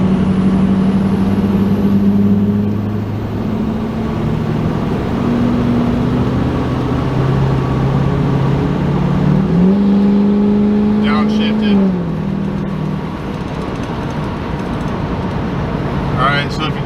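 Diesel truck engine fitted with an S&B air intake, accelerating under throttle in 5th gear lockup at about 50 mph on a highway, a steady loud drone whose pitch rises midway before settling, with some intake whistle near the end.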